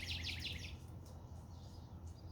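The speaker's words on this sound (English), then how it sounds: "Listen to the birds." Quick bursts of high bird chirps at the start, over a low steady background hum, then fading to quieter ambience.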